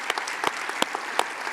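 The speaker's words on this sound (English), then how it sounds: "Let's give Magnus a big applause." Audience applause for a keynote speaker, a research vice president, at the close of a keynote session; a short burst of steady, dense clapping from a full room, with a few sharper individual claps standing out.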